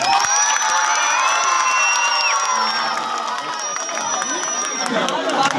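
Children's audience at a neighbourhood street program in Korangi, Karachi, cheering and shouting together in a loud, continuous crowd roar with high excited voices, applause mixed in throughout.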